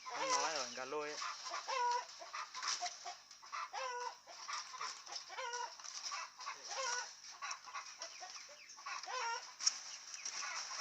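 A pair of pheasants held for sale, a cock and a hen, give repeated clucking, chattering calls close by in a quiet outdoor setting, with a few faint voices now and then.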